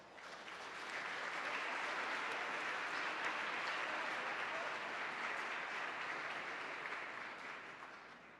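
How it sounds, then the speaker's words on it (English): A civic awards gathering's audience applauds warmly in a large hall, sounding soft and somewhat distant as the clapping swells in, holds steady, then tapers off. "Please join me in a warm round of applause for all of them."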